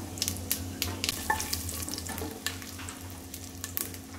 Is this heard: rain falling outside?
no